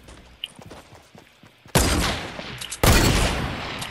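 Gunfire in a Fortnite Battle Royale sniper shootout: faint scattered shots and footsteps at first, then two sudden loud blasts, each ringing out and decaying, with no talk.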